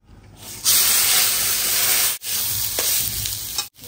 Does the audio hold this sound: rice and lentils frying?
yes